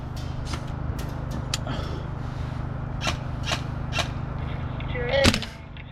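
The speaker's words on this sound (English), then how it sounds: "the M110 is fun, decent enough accuracy, and very satisfying to shoot" A VFC M110 gas blowback airsoft rifle fires a handful of sharp, spaced shots outdoors, each a crisp crack, with a steady low hum underneath and a louder clattering burst near the end.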